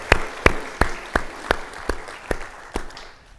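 Slow, spaced claps ring out in a hall during a school reunion address, about eight distinct, evenly timed claps at moderate level with no talk over them, fading at the end.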